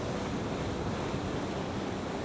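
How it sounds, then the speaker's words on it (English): Big ocean wave breaking on a shore at sunrise, a continuous loud roar of surf mixed with wind buffeting the microphone, no voices. "Okay, here comes a really big wave."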